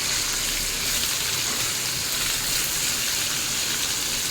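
Marinated chicken pieces frying in a pan with garlic and butter, a loud, even sizzle that hisses steadily and close throughout.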